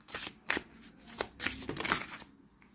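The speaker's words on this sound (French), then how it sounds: "je vais aller choisir les cartes. Hein. On va juste les mélanger." Oracle cards are shuffled by hand in quick, soft riffling bursts, several close papery flurries with short pauses between them.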